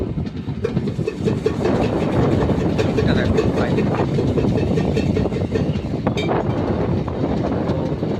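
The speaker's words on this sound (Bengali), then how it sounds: "ট্রেন যাচ্ছে, দেখতে পাচ্ছ।" A moving passenger train gives a continuous loud rumble with rhythmic clickety-clack from the wheels, heard from inside the carriage with some wind buffeting.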